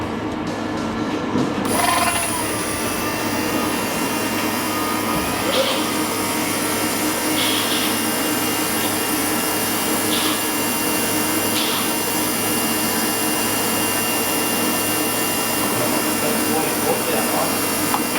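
Bosch 044 fuel pump running inside the fuel tank of a built Cosworth EJ257 car, a steady whirring electric drone that holds constant throughout, with a few faint knocks.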